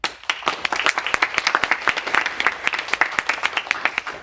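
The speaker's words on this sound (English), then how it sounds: "give yourselves a great round of applause for being here" Audience applause at a Canadian Women in STEM conference, a dense run of sharp individual claps from a room-sized crowd, steady and fairly close throughout with no voices over it.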